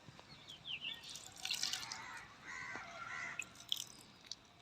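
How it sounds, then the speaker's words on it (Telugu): Water poured onto potted plants drips and trickles in soft, irregular patters with a few brighter splashes, faint and close, with no talking. "ఇప్పుడు ఏం చేద్దామంటే ఈ కొండలకు నీళ్ళు పోస్తున్నా ఇక్కడ వాటర్ వేసి"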